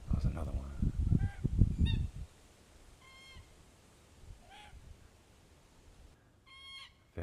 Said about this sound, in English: Very vocal bird, obviously.